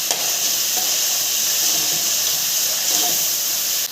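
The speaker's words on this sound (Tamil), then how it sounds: "போட்டு நல்லா வதக்கிக்கலாம்." Masala with salt sautéing in a pan for quail egg gravy, a steady close sizzle and hiss that runs unbroken throughout with no talk.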